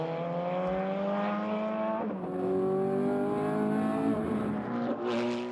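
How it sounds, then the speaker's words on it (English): A 400-horsepower sports car drives fast with a loud, continuous engine drone, climbing in pitch through the gears with brief dips at shifts and a faint high tire whine, and no talking. "This 400 horsepower car can easily go at more than 300 kilometers an hour."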